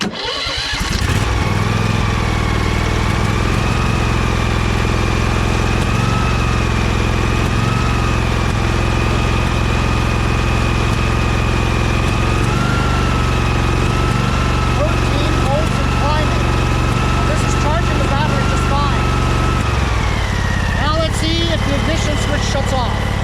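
A Husqvarna 2346XLS hydrostatic lawn tractor engine cranks and catches, then runs at a loud, steady drone for about twenty seconds before its tone shifts near the end, with voices talking over it.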